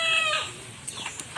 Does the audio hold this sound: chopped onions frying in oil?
no